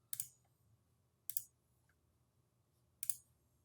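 Three sharp, crisp computer mouse clicks, well spaced and close, each standing out against a near-silent background.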